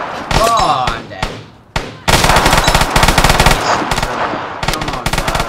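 Loud, rapid automatic gunfire from the video game Vigor rips out in dense bursts with brief pauses between volleys, while a voice talks underneath.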